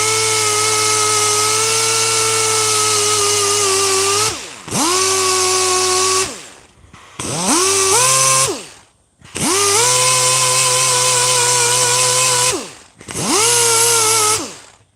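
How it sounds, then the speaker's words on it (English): Rotary polishing head whining against resin prints sanded to 1000 grit. A loud, high motor tone runs in long bursts, dipping and rising as the tool is lifted off and pressed back on, close up, with no talk. "the polishing head here, this process removes the wee fine scores left by the 1000 grit sandpaper"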